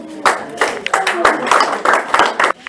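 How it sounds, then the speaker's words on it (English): Church congregation clapping to welcome a newcomer, a loose uneven burst of claps in a near room with a voice talking over the rhythm. "Let's clap for her."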